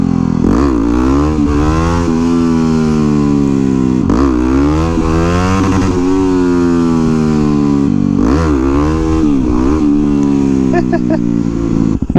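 A 2009 Yamaha WR250X supermoto's single-cylinder engine revs loud and close, climbing and falling in repeated surges roughly every four seconds, with a sustained buzzing drone between pulls.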